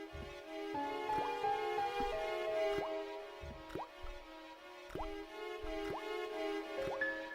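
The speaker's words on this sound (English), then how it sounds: "The slow drip of water barely dampened the towel." Water drips slowly from a rusty faucet in the Broken Sword adventure game, a series of soft, evenly spaced plinks, roughly one a second, over a faint sustained tonal background.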